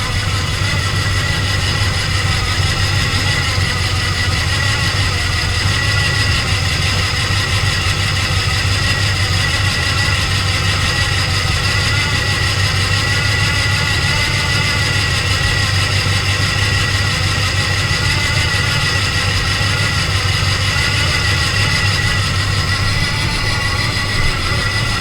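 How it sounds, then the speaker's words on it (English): A Ford Mustang engine idling with noisy Pete Jackson gear-driven timing gears, a steady low rumble topped by a constant high whine, held evenly and close for the full length with no talk. "it actually has Pete Jackson gears, noisy gears"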